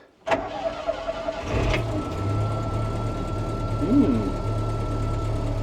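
A brief metallic click, then a Bombardier Bombi snow vehicle engine with Holley Sniper 1100 fuel injection cranks and catches, settling into a steady, close, low idle.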